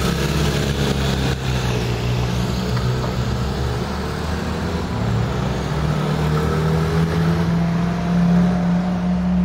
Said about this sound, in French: Le V12 de la Ventador qui s'en va.